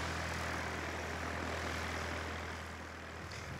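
An airplane engine runs on the ground before takeoff, a steady, even roar with a low droning hum that holds at constant loudness throughout.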